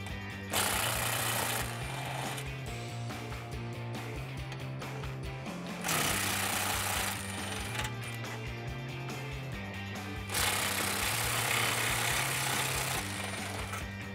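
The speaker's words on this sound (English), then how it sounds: "I'm gonna use a swivel and an impact gun for the first 3" An impact gun on a swivel zips 10mm bolts off the exhaust tips of a Dodge Challenger, giving three long, loud hammering rattles separated by short pauses.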